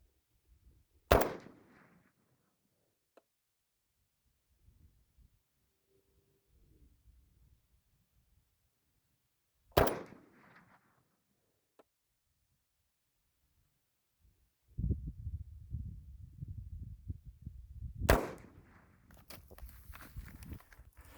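Three loud, sharp SCAR-17 rifle shots ring out outdoors at a long-range shooting setting, spaced several seconds apart, each with a short decaying tail, with faint rustling and handling noise between them.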